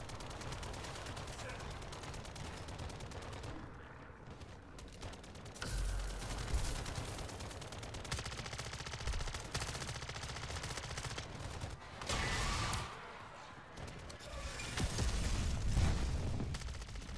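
Sentry gun in the MW3 Zombies video game fires sustained rapid automatic bursts, loud and close, mixed with thudding booms and battle noise throughout, with no talking.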